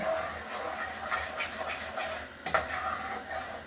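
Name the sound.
stirring thickening gravy in a pan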